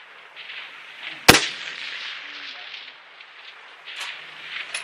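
A single sharp, loud report from a Ruger American 6.5 Creedmoor rifle fired at steel silhouettes at 1,000 yards, followed by a brief decay over low wind noise, with faint voices nearby.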